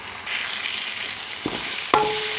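Flat bean curry fries in a pan as chili powder is stirred in: an even sizzle with a couple of scraping stir strokes partway through.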